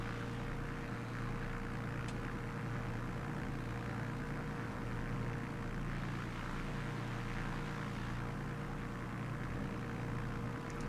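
Steady propeller drone of a Ryan Navion B light aircraft engine in Microsoft Flight Simulator, a continuous even hum with no pauses and no talking.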